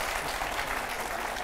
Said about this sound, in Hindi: तालियां हो जाए एक बार जोरदार तालियां हो जाए।